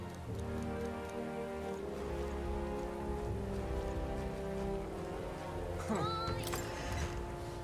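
Steady video-game rain patters continuously on a surface in Metaphor: ReFantazio, with a low tonal background hum and a brief higher sweeping sound near the end.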